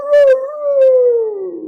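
A child or person imitates a howling dog in a music class, giving a drawn-out wavering howl that slides gradually downward, with a couple of short breathy accents early on, close and alone.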